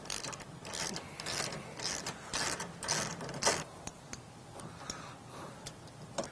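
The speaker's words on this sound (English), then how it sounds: "we're going to go ahead and remove these two lower mounting bolts here" A 16mm socket wrench ratchets out the lower mounting bolts of a Jeep Gladiator JT rear bumper, giving quick bursts of close metallic clicking with brief pauses between strokes.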